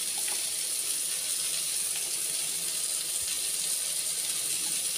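Water gets stirred in a pot while a Bengali fish curry with cauliflower, potato and onion greens is being made, producing a soft, continuous watery swish with faint clinks, fairly quiet and without speech.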